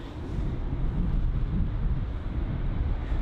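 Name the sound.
wind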